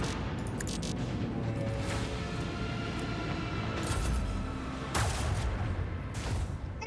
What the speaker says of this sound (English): Oh my god, what was that shot?